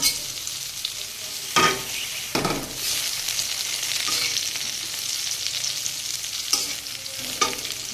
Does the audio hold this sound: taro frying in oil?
yes